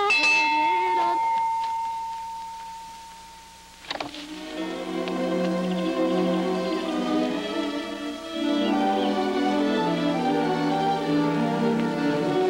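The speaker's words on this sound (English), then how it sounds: "Put him by the tree and ring that bell." A hand bell rung outdoors by a tree, its bright metallic peals sounding near and loud with a long ringing decay, struck again partway through as the tones overlap and linger.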